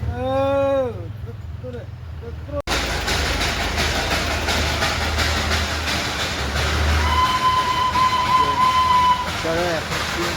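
A mountain railway train pulls into Ghum station in the Darjeeling hills, its rumbling and clattering rising loud and close under steady engine noise, with sustained whistle-like horn tones partway through and a brief chirp near the start.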